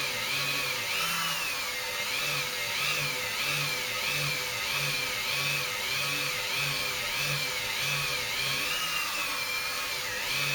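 A polishing tool spins steadily at 5,000 rpm against a glass vase, giving a continuous high whine with a pulsing low hum, loud and unbroken throughout.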